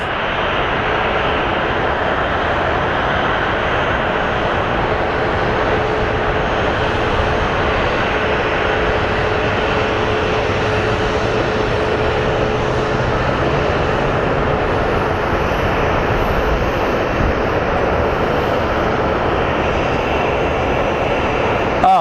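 A United Airlines airliner bound for Denver at Phoenix Sky Harbor, its jet engines a loud, sustained roar that stays steady and close, with a thin tonal whine running partway through.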